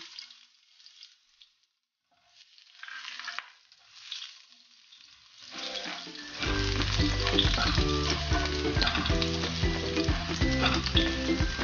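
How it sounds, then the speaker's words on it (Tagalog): Garlic hits hot oil in a pan after a few quiet seconds of faint kitchen clatter, bursting into a loud, steady sizzle of frying that continues to the end. "pag mainit na po, lalagay na po natin yung bawang"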